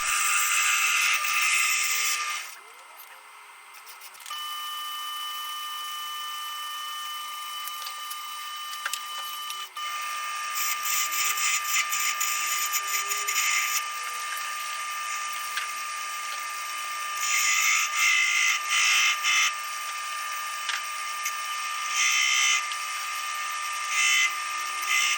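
Spindle gouge cutting a spinning wooden workpiece on a lathe while turning a honey pot: a steady, high-pitched whine and hiss with a constant tonal hum. It runs continuously for the whole stretch, with brief pauses and surges as the tool bites.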